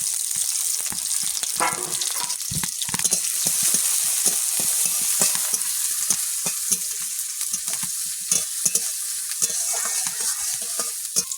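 Green chillies fry in hot oil in a wok with a continuous sizzle, punctuated by scraping stirs and occasional clatters, close and fairly loud.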